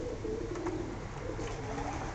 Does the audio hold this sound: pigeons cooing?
yes